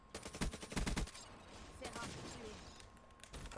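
Rapid bursts of video game gunfire crackle in quick volleys, followed by scattered shots and a final short burst, with a voice talking faintly underneath.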